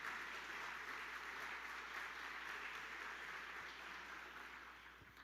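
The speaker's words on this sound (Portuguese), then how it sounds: "aplauda Jesus bem forte." A church congregation applauding, a steady dense wash of clapping hands heard from a distance and fairly faint, tapering slightly toward the end, without speech.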